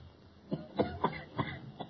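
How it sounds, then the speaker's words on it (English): A muffled person coughs from an adjoining room in a seemingly empty house, a short series of four or five faint hacking bursts with a thin, filtered quality. "There's the cough again."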